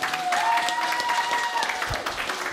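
Wedding guests applaud at a Ukrainian wedding party contest, clapping mixed with crowd noise and a sustained tonal sound in the background.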